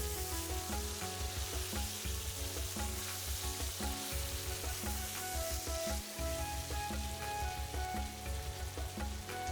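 Rui fish fries in hot oil in a pan while being stirred. The sizzle is loud and continuous, with rhythmic scraping pulses from the stirring and no talking.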